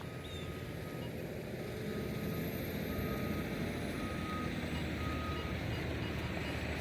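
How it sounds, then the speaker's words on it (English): Construction trucks rumble past outdoors on a cold, windy morning, with a steady low engine drone and a repeating reversing-beep tone running throughout. "Sorry for the noise. There's some construction trucks going by."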